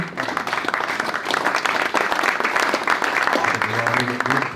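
An audience at a culture prize presentation applauds steadily for jury chair Jan de Groot, a sustained wash of clapping with a voice speaking over it near the end.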